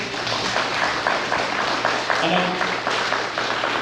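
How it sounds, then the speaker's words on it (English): Audience applause at a public meeting with invited speakers, a steady, moderately loud patter of many hands clapping together for a few seconds. "Could we give a round of applause here?"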